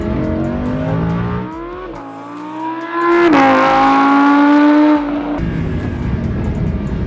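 A 2015 Lamborghini Huracan LP 610-4 accelerates hard on an open road, its engine note climbing through gears with loud rising revs and brief shift dips, close and continuous with no talking.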